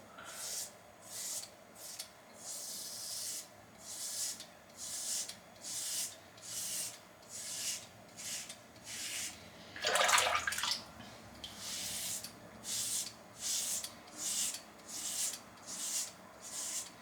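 A Weck Sextoblade razor shaves a lathered head with steady, rhythmic rasping strokes about once a second. There is a brief louder scrape midway, all close and fairly quiet.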